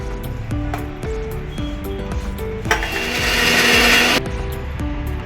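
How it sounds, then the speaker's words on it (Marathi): A mixer grinder grinding spices for misal masala whirs in short bursts, motor pulsing and then running steadily for a couple of seconds before cutting off, close and loud. "आता हे सगळं जे आहेत ना साहित्य मी मिक्सरमध्ये बारीक करून घेते"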